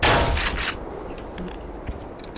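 Gunfire in the video game Black Mesa: a loud burst of shots at the start that fades into a fainter, rumbling tail with a few scattered pops.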